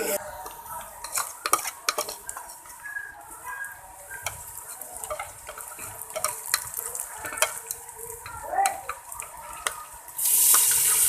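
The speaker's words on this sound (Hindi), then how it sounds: "प्याज को भून लेंगे, लहसुन भी" Onions and garlic fry in a pan for a village-style curry while a metal spoon stirs them, giving repeated scrapes and clinks against the pan over a soft sizzle, with a brief hissing burst near the end.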